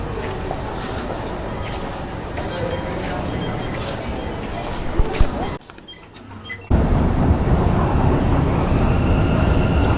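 Rumbling metro train noise fills a busy Bengaluru station, with a brief near-silent gap before the heavy roar returns louder, voices faintly mixed in.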